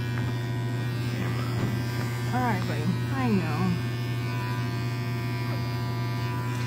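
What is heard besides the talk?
electric shaver shaving a guinea pig's fur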